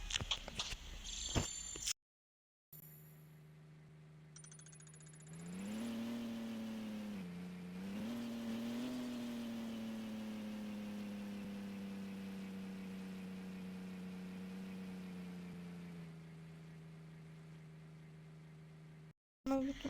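A BMW car engine idles, then revs up and settles into a steady, fairly close drone that rises and dips a couple of times before cutting off, with brief clatter at the start and end.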